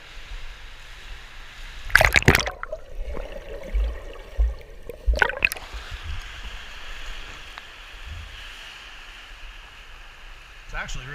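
A swimmer pushes off a pool wall and starts swimming, with a couple of sharp splashes followed by softer, irregular water churning and sloshing at close range.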